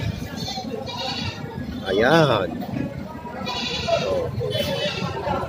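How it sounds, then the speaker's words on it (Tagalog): Sheep bleat loudly once in a rising, wavering call at a farm where horned sheep and goats of various breeds are kept, with people talking throughout and a few fainter animal calls around it. "May mga tupang dumating."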